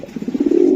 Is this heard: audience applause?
no